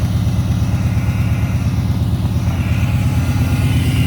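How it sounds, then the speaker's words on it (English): A fuel-injected car engine cold-starting in sub-zero cold, idling with a steady, loud low rumble and faint whistling, with no talk over it. "That's a pretty eventful cold start for a fuel injected car."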